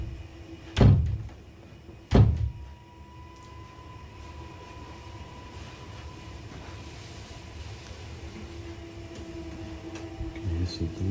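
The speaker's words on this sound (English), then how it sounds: "I can hear banging on the... Can you hear it? It's this door." A door is struck hard twice at night, two loud booming bangs about a second apart, then quiet room tone with a faint steady hum and a soft thud near the end.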